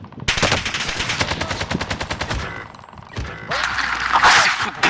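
Rapid automatic gunfire in a multiplayer shooter video game, a fast rattling burst of shots in steady rhythm, then a short lull and more bursts with sharp impacts, loud and up front with little talk.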